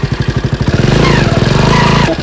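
A motorcycle engine starts and revs up close and loud, settling into a fast, steady putter of regular pulses that climbs in pitch before cutting back near the end.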